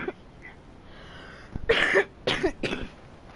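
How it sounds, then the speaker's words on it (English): A few harsh coughs close to the mic after a quiet pause, two or three bursts in quick succession. "sorry about the coughing"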